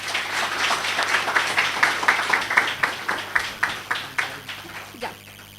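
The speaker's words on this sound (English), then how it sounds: "Please give a big round of applause." A seminar audience in Delhi welcomes a speaker to the stage with applause that settles into rhythmic, evenly spaced unison claps, fading after about five seconds.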